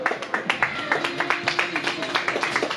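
Scattered claps from a few people at a soccer training session, sharp irregular slaps in an uneven rhythm for several seconds, with voices talking over and around them.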